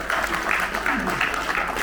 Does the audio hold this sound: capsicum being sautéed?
no